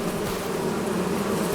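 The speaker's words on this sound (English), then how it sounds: "Right next to our bees." Bees from hives on a farm in a farming video game, a steady close buzzing drone that holds evenly throughout with no voices.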